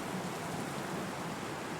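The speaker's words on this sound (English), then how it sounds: "The sound of the rain begins to fade." Rain in the video game NieR Re[in]carnation falls as a steady, even hiss of broadband noise, soft and continuous with no distinct drops standing out over the short stretch.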